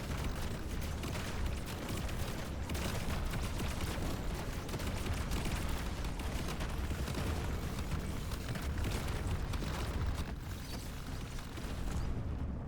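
Plasma grenade explosions in the video game Deep Rock Galactic: Survivor, a dense, continuous barrage of loud booms and crackling blasts layered over heavy game noise for the whole stretch.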